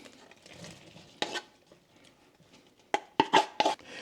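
Meat drops into a pot of homemade chili from a kit and gets stirred, with a few sharp clanks of a utensil against the pot near the end after a quieter stretch of soft scraping.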